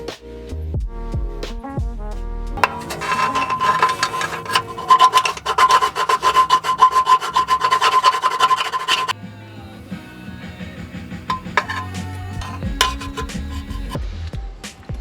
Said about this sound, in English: attempting to insert this top bolt through the subframe and into the locating hole on the diff brace